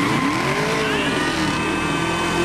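A fast Chevy car engine revs hard in a commercial, a loud sustained roar with rising and falling pitch sweeps, racing-style and close, without any talk.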